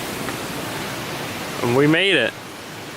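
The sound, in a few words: small waterfall and stream flowing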